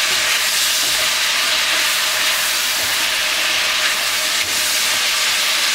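Chilli chicken being stirred and fried over high heat, a loud, dense, unbroken hiss of hot oil close by with faint stirring underneath and no talking.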